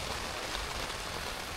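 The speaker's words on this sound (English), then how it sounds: "Can you hear the rain?" Torrential rain falls steadily on a budget hot tent, a dense, even hiss of countless drops that stays loud and unbroken throughout, with no voices.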